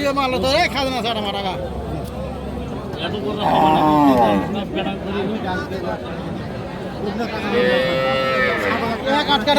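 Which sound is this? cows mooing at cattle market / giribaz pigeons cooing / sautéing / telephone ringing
cows mooing at cattle market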